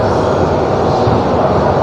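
An express train travelling from Kolkata to Jammu runs into Lucknow, heard from on board as a loud, steady rumble of wheels and carriage noise with no break.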